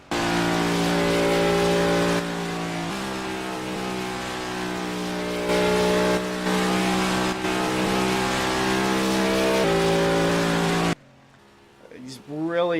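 A race car engine screams at full throttle through qualifying laps, loud and sustained with slight pitch shifts as it holds speed, then drops away abruptly into a near silence.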